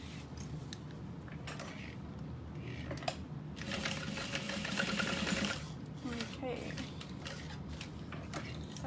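A sewing machine stitches a tote bag strap in short bursts of rapid mechanical whirring, close by, with pauses and faint handling noises between runs and a voice talking softly underneath.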